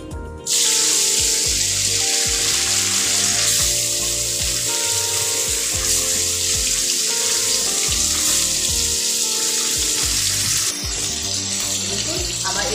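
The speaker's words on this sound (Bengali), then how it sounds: "বাকি মাছগুলো আমি এভাবে ভাজা করে নেব।" Pieces of chital fish sizzle loudly in a pan of hot oil, a dense, steady hiss that keeps going for several seconds before it drops away abruptly near the end.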